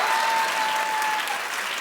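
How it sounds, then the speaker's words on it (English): A short burst of steady audience applause and clapping for Nick Cannon, loud and sustained with a faint tonal hum underneath. "Y'all better clap for Nick Cannon."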